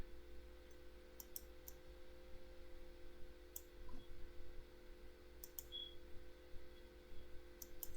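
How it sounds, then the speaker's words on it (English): A computer mouse clicking while working in animation software, a few faint, sharp clicks spread apart over a low steady hum. "Now what you want to do is right click"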